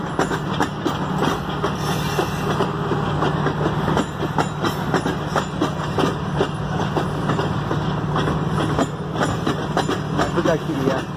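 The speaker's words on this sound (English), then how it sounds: "This is one of the Friday trains." A long CN mixed freight train, led by CSX 5223, rolls steadily past, its continuous rumble and rhythmic wheel clatter on the rails filling the scene at close range, with occasional voices talking over it.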